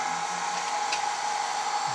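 A vacuum bleeding machine for WP, KTM and Husaberg motorcycle shocks runs in vacuum mode, giving a steady, even whir with a pump-like hum that holds level throughout, no voices.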